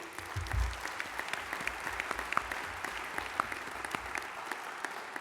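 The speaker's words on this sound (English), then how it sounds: "can we get a round of applause for the other awardees?" Crowd applause for fellow awardees at a veteran business awards event, a steady patter of many hands with some louder individual claps standing out nearby, continuous throughout.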